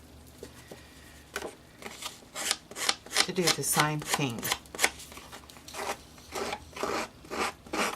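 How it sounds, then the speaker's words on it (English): Repeated rasping scrapes of a distressing tool rubbing along paper edges, a quick irregular rhythm, with a voice speaking briefly over it. "Just to distress the edges."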